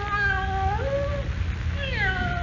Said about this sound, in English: we heard the cat speak to us in Miss Lane's voice